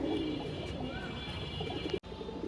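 A pair of Kalanka pigeons coo softly and steadily at close range, a low continuous murmur with a brief cut near the end.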